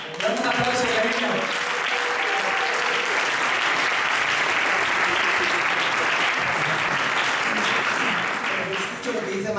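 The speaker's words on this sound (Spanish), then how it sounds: "Dame un aplauso, cariño." A church audience gives loud, sustained applause after a pastor from Madrid is introduced at a workers' retreat, steady clapping that fills the whole stretch with a few voices faintly mixed in.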